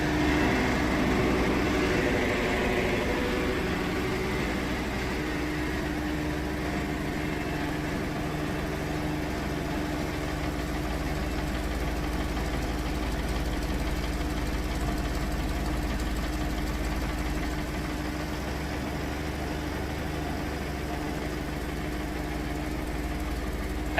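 A sawmill engine runs steadily at a mid-range idle with a faint knocking rumble during the first cut on a crooked log, loud and continuous throughout with no voices.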